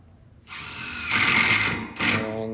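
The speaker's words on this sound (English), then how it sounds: "it's a good idea to get these last 4 screws into that beam" A power drill drives screws into a timber beam on a roof, a close high-pitched motor whine that ramps up, strains under load, briefly stops and spins up again.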